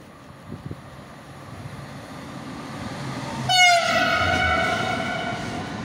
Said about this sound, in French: Oh, le TGV, il roule doucement. Ah, néo duplex.